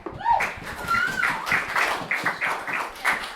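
Audience applause at a comedy roast, a steady patter of many hands clapping in a room, mixed with scattered voices and cheers.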